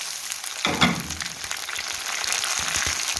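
Tomatoes drop into a pan of frying chicken karahi, charsi restaurant style, setting off a loud burst of sizzling that settles into a steady crackling fry with no voices.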